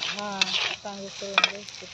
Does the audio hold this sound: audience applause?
no